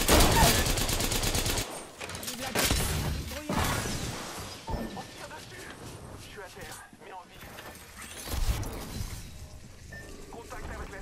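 Gunfire from the Apex Legends video game fills the scene, with loud rapid bursts and sharp impacts in the opening seconds and sporadic shots later, heard over a player talking.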